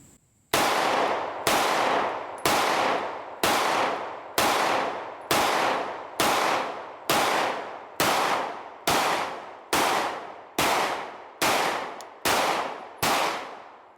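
Fifteen sharp, loud pistol shots from an Echelon 4.0c handgun, fired at an even pace about every second outdoors, each crack followed by a short ringing decay, with no talking.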